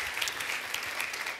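A crowd claps steadily throughout, a dense, even patter of applause with no talking over it.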